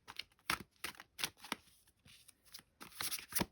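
A tarot deck being shuffled by hand, crisp riffling card bursts repeating in an irregular rhythm, close and fairly quiet with no talking.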